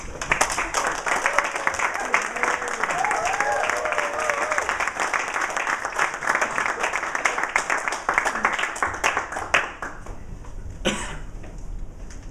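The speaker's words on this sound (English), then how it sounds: "can we have a big round of applause to Danny Cannon?" A Toastmasters audience bursts into applause for a speaker, a dense, fairly loud round of clapping that runs about ten seconds before thinning out, with a few voices and a cough mixed in.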